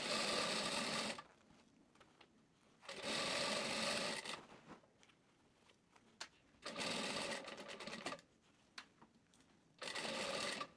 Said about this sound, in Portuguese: você vai começar a esticar o lastex e costurar